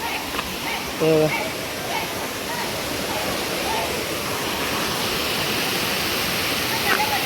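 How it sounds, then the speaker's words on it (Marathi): Steady broadband rush of a small waterfall in Tamhini Ghat, continuous and fairly loud, with a brief faint tonal chirp early on. "हा छोटासा वॉटरफॉल आहे"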